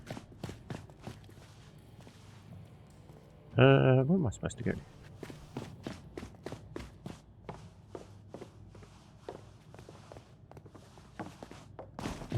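Footsteps of a character walking in the survival video game Nightingale, a steady run of soft repeated steps throughout, with a short spoken question partway through.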